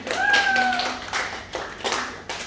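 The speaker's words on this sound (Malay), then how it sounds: "Okey, so betul Ahmad, tepuk tangan." A classroom claps for a student who answered correctly, several short bursts of clapping in uneven groups, preceded by a brief tonal squeak or voice.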